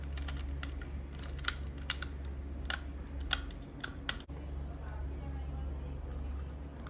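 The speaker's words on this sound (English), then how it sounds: "I need to remove this screw. For that I am using this screwdriver." A screwdriver works a small screw out of an optical computer mouse: a run of sharp, irregular ticks and clicks, close and fairly crisp, over a steady low electrical hum.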